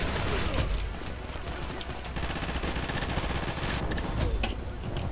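Rapid bursts of automatic gunfire from the first-person shooter game Combat Master, dense and continuous across the whole stretch with brief gaps, loud and close.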